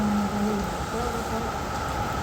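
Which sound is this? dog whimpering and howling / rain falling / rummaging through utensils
rain falling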